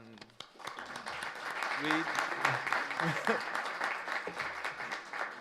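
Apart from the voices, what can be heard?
audience applause after a workshop talk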